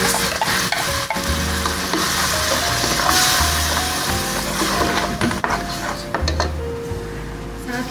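Onion, tomato and green chili paste sizzles and crackles in hot oil in a pan, with a few utensil clinks and stirring scrapes over the steady frying hiss.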